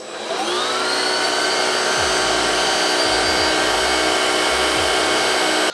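A BLACK+DECKER Powerseries+ vacuum spins up and runs on its lowest setting with a steady, close whine and hum that holds for several seconds, while low bumps of handling sound underneath.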